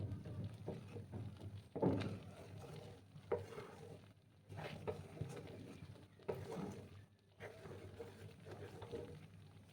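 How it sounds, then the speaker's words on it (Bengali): Sandesh mixture being stirred continuously in a pan, a steady scraping and swishing with soft irregular strokes, close and moderately quiet, with a low background hum and no talk. "এইভাবে আমি কন্টিনিউ নাড়াচাড়া করতে থাকবো"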